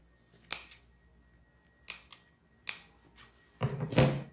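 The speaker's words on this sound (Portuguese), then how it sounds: "a gente pode dar pequenos picotes com a tesoura, com a ponta da tesoura" Scissor tip snipping small notches into fabric while making a cloth wallet, four sharp separate cuts spaced about a second apart, close and clear against a quiet room, the last one longer and rougher.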